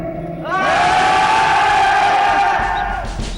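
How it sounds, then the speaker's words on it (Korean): Army recruit trainees let out a loud massed battle cry, a sustained roar of many voices shouting together that holds for nearly three seconds before tapering off. "우렁찬 함성 소리가 창공을 가로지른다."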